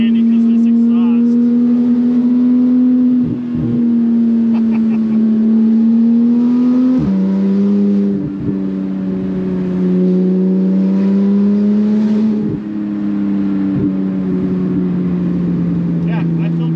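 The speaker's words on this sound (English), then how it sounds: "it got a lot of good exhaust sounds" Porsche GT3 RS exhaust droning loudly and steadily from inside the car while driving, with its pitch shifting through several gear changes and brief dips, and people talking occasionally under the engine.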